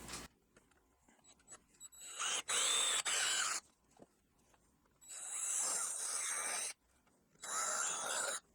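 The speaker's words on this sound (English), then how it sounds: "You're going to follow this ridge and put holes all through it." A power drill bores a row of holes along a molded plastic ridge during a CFMOTO UForce 1000 XL headlight modification, coming in three loud close whining bursts separated by quiet pauses.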